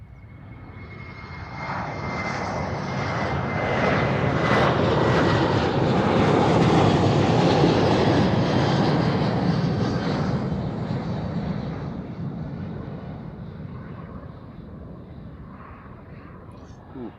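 Airplane departing Amsterdam Schiphol Airport, its engine roar building to a loud, broad peak over several seconds and then slowly fading into the distance.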